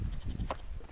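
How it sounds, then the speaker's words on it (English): A single short sheep bleat sounds over rustling and wind on a hillside during a mountain expedition, brief and moderately close. "sheep over there."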